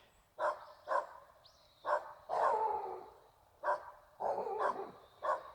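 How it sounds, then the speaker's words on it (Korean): A dog at a Balhae-themed village park in Gyeongsan, North Gyeongsang, barks again and again on a cold winter day. About seven sharp, fairly close barks come in irregular bursts, some doubled, with quiet gaps between them. "저 자꾸 개가 짖어가지고."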